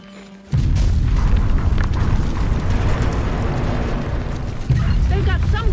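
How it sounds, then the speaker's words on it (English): A mortar barrage in The Division 2 opens with a sudden deep boom, then a sustained, loud rumbling of explosions that swells again near the end while game voices talk over it. "The first barrage is on its way."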